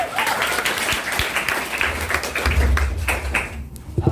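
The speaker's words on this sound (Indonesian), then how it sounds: "Beri aplaus untuk diri Anda." Audience clapping at an event in an Indonesian venue, a dense burst of hand claps filling the room for a few seconds.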